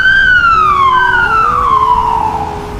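A loud ambulance siren wails continuously, its pitch sweeping slowly downward with a strong harmonic tone, close and alone with no talk.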